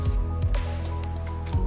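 Plums are being washed by hand in water, producing short wet squishes and drips in a quick, close sequence.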